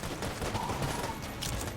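Rapid bursts of gunfire and explosions crackle through an Enter the Gungeon gameplay session, a fairly quiet, continuous stream of overlapping shots with no talk.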